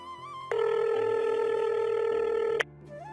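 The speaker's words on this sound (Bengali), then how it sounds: "বাসায় ফোন দেয় কল হচ্ছে" A phone call rings as one steady electronic tone lasting about two seconds, clear and prominent over a faint soft background.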